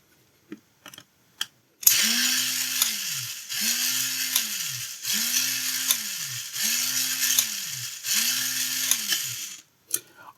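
A 1980 Alps ActionRider electromechanical cassette mechanism runs its motor in five even, loud whirring cycles, each with a rising-falling hum and a ratcheting buzz, framed by a few sharp clicks before and after.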